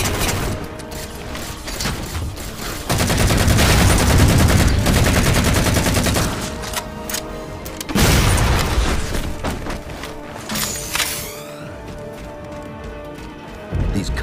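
Heavy explosions and rapid gunfire fill a Halo 4 battle with Covenant forces, loud broadband booms and crashing bursts rolling across most of the stretch, with no talk over them.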